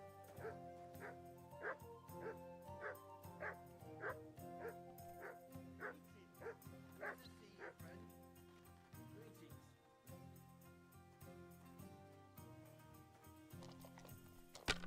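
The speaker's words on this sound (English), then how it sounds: "Someone tell that dog to be quiet over there." Dog barking in the medieval RPG Kingdom Come: Deliverance 2, a steady run of repeated barks at an even rhythm over game music, then fading to sporadic sounds in the second half.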